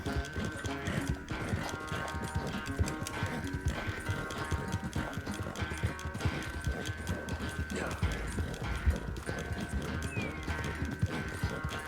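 In Red Dead Redemption 2, rapid, continuous hoofbeats pound in a galloping rhythm, with a horse's whinny and busy background sounds mixed in.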